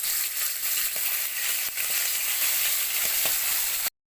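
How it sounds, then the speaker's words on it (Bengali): Fish pieces fry in hot oil in a wok, giving a steady loud sizzle with small crackles throughout, before the sound cuts off abruptly at the end. "এবার একটা একটা করে মাছ তেলের মধ্যে দিয়ে দেওয়া হচ্ছে"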